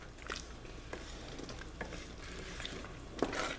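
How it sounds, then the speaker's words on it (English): Beef and bean chili simmers in a pot with a soft, steady bubbling and sizzling hiss, broken by occasional light scrapes and clinks of a utensil against the pot. "Okay, so I'm going to let this simmer"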